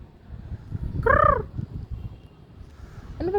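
A bird calls nearby with a short warbling burst, then a second call starts at the very end, over quiet background rumble and no talk. The people there call it a pigeon.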